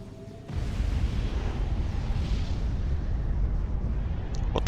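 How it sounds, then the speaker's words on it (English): A huge blast from a suspected nuclear bomb in the strategy game Supreme Commander rolls out as a sudden, loud, deep rumble that holds steady for several seconds. "What was that huge explosion?"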